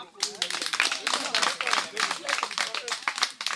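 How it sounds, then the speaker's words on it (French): A group at a discussion panel on money and romantic relationships gives a brief round of applause for a participant, with quick, moderately dense clapping mixed with voices. "Est-ce qu'on peut l'applaudir?"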